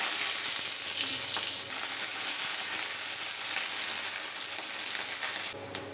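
Onion sizzles and fries steadily in a small amount of hot mustard oil with dried red chilli and five-spice seeds, a continuous close, crackling hiss with occasional stirring, no voices.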